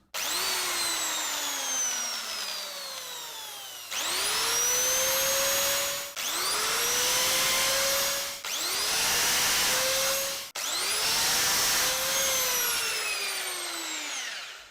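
A power drill whirs loudly in five long bursts while extracting a broken bolt on a Jaguar S-Type, each spinning up with a rising whine, with brief pauses between.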